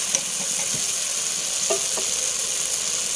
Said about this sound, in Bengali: এতে ভেজে রাখা আলুটা দিয়ে দেবো।